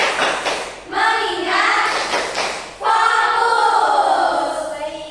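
A classroom of pupils performs a rhythmic clap-and-chant routine, groups of quick claps alternating with loud spoken chanting in unison, close and lively.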